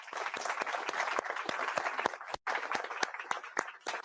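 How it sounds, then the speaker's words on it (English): A crowd at the Paris AI summit applauds steadily for a few seconds with dense, even clapping, broken by a brief dip and then continuing. "Let's give them a round of applause."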